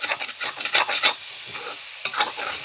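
Dried fish cooked with jackfruit seeds is stirred in a dry pan, a loud, close sizzle broken by repeated scraping strokes of the spatula, with a short pause midway before the stirring resumes.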